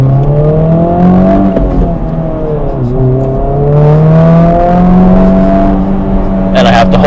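A 2024 Honda Civic Type R engine in plus R mode hums loudly at close range, its pitch climbing, dipping briefly at a shift, then rising again, with a burst of noise at the end.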